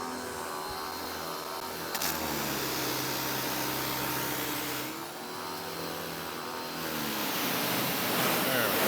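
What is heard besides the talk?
hosing off a truck with a pressurised water hose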